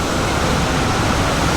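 Tegenungan Waterfall in Bali roars with a dense, steady rush of falling water, loud and unbroken from start to finish, with no voices heard.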